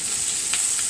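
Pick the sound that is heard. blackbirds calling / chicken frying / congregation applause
chicken frying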